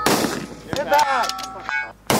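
Rifle gunshots at a shooting match in windy badlands, a few sharp cracks with ringing metallic target clangs between them, near and loud, with brief voices mixed in.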